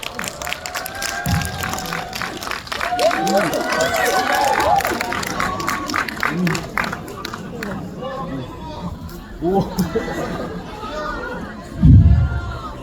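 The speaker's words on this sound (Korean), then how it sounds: "큰 박수 부탁드립니다." A cinema audience claps for the director and actors arriving on stage, a patter of hand claps running beneath a man's amplified speech, which fades near the end before a brief loud thump.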